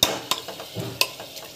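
Vegetables sautéing in a pan in a home kitchen, sizzling under a few sharp utensil scrapes and clanks against the pan as they are stirred, close and brief.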